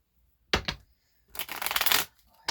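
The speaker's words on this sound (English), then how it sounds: "One more shuffle." Two quick bursts of tarot cards being riffled, then a longer, steady shuffle lasting about a second, close and crisp in a quiet room.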